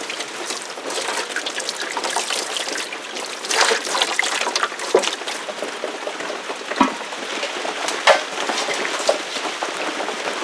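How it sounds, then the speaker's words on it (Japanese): Hot water trickles and splashes over a plucked mallard duck carcass, a steady close pour with scattered drips and light knocks against the bird. "あとお湯かけて、で毛穴を一回開いて、余計抜きやすくしてから続きをします"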